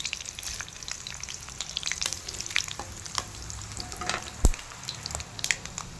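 Mustard and other tempering spices sizzle and crackle in hot oil with fried onions, with sharp pops and spattering over a steady fry, close by, and a scrape of stirring.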